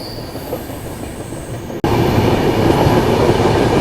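A passenger train rolls along the main railway line on the Bengaluru to Delhi route, a loud close rumble of wheels on track that jumps louder after a brief dropout near the middle.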